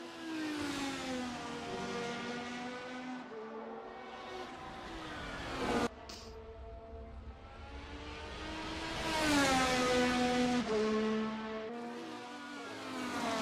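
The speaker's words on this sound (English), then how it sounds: "the sights and sounds of the VRC Formula One machinery around Piranema tonight" Formula One cars in a VRC sim racing game lap the Piranema circuit, their high engine whine rising and falling through gear changes as cars pass one after another, loud and continuous.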